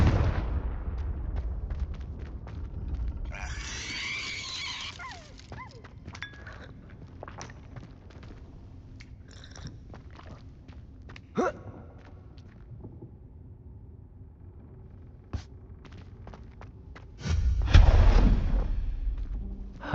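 The Confringo explosive spell is cast in the video game Hogwarts Legacy, producing a deep booming blast with rumbling impacts, a burst near the start and a louder blast toward the end over low ambient game noise.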